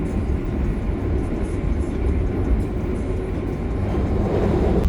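A night passenger train between Cirebon and Jakarta rumbles along the rails, a loud continuous low roar with steady clatter heard from inside or close by.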